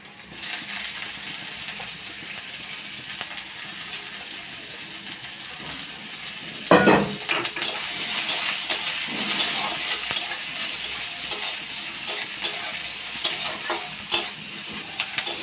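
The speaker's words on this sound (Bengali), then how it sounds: "পেঁয়াজটা একটু ভাজা ভাজা করব" Chopped onion and garlic sizzle steadily in hot oil while a spatula scrapes and stirs the pan, with one sharp clatter partway through and a soft, constant frying hiss throughout.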